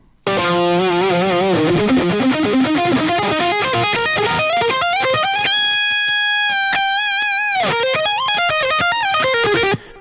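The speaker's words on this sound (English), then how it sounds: "if we bring the delay and reverb back in, it's a beautiful guitar tone" A bright, sustained electric guitar melody with delay and reverb rings out from a studio mix, echoing repeats and a lush wash of reverb, notes gliding and bending before stopping abruptly.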